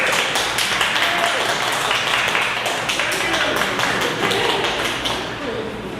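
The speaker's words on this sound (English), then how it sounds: "Give Miss Gail a round of applause." An audience at a business training session claps in a loud, dense round of applause that carries on steadily for several seconds before easing slightly.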